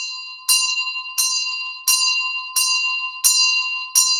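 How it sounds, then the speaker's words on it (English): A Tibetan Buddhist ritual bell is struck six times at an even pace of roughly two-thirds of a second, each bright metallic ring close and loud, decaying before the next strike, with no voices. "you start to ring your bell"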